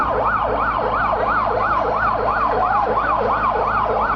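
An ambulance siren wails at Sylhet Osmani International Airport after a plane skidded off the runway and caught fire, sweeping up and down in a fast repeating cycle, loud and close, over a low engine rumble.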